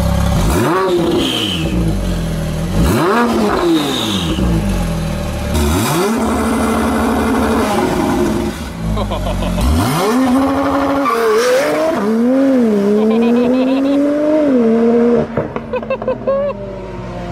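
A stock-engine turbocharged Honda Civic with a Boost Logic exhaust revs hard and repeatedly, rising and falling in pitch, loud and close, then pulls away with a long climbing rev.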